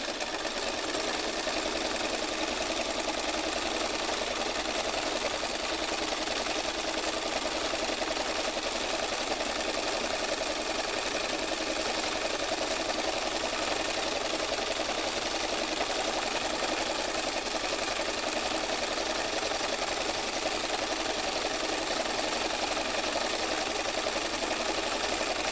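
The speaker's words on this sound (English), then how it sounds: "I'll just stitch backwards and forwards." Sewing machine stitching a fabric heart, running steadily back and forth in one continuous, even whir for the whole stretch, close and fairly loud with no voices.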